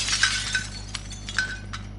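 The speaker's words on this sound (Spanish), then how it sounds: "He escuchado cristales rotos, ¿eh?" Glass shatters in the video game Call of Duty: Modern Warfare (2019). A bright crash comes first, then scattered tinkling shards fall over a steady low background hum.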